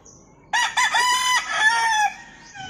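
A black gamefowl bullstag rooster, dark-legged with blue legs, lets out one loud, close crow with a few clipped opening notes and a long ringing tail, over a quiet background.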